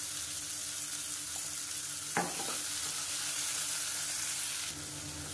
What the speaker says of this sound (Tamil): இந்த வெங்காயம் வதங்குறதுக்கு உப்பு சேர்த்துக்கலாம்.